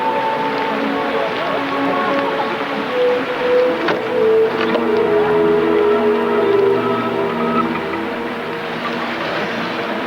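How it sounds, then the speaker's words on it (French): A boat's engine drones with steady low tonal hum and a rising pitch, loud and continuous, with faint voices mixed into the background. "Le bateau s'en va!"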